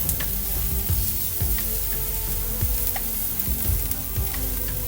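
Chopped onions sizzle steadily in a hot pan with sea salt for a spinach palak gravy, a dense continuous crackle with occasional stirring scrapes, loud and close with no talking.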